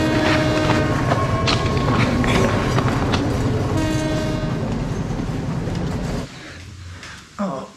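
A train rumbles past close by in Ella, Sri Lanka, loud and steady with a blaring horn and rattling wheels, then cuts off to quieter ambience near the end.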